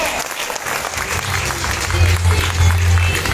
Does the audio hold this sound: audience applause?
yes